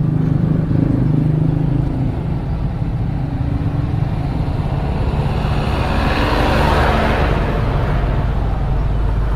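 Road traffic in a jam during motorcycle touring in Indonesia, a steady close rumble of idling and creeping engines with a passing vehicle swelling louder midway, no talk heard.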